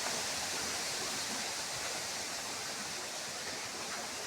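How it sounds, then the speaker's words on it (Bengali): A child's shirt being washed under running water: a steady broadband rush of flowing water, continuous and fairly even, with no voices. "আমি এই জামাটা একটু ধুয়ে দেই"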